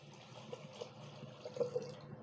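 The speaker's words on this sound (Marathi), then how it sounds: "त्याच्यात आता पाणी टाकून घेऊया" Water poured into a cooking pot, a quiet close trickle and splash running steadily with faint watery gurgles throughout.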